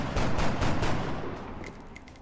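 Rapid bursts of gunfire rattle from XCOM: Enemy Within combat, several sharp shots in quick succession up front, then thinning to sparser distant pops and pings; no speech.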